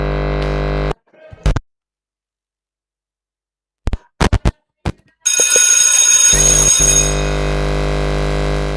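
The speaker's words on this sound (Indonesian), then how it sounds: "Bel istirahat berbunyi." A school recess bell rings loud and steady, a sustained electric tone that cuts out, leaves near silence with a few short bursts, then resumes continuously.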